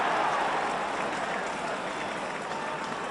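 A football crowd at a 1977 Leeds match cheers and applauds after Lorimer scores a penalty, the dense roar and clapping filling the stadium at a steady loud level.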